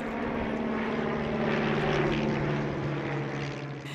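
Propeller airplane flying at an air show in Switzerland, a loud steady engine drone with a throbbing buzz that swells toward the middle and eases slightly at the end, with no voices.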